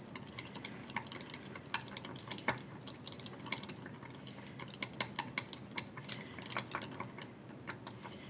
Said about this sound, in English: Stir with my clean stirring rod.